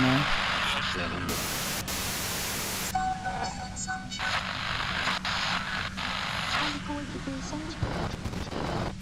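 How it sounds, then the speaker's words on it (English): In the Disco Elysium video game, a harsh burst of static white noise washes over a steady low hum, with a voice speaking over much of it. "Her voice trails off into white noise in your head."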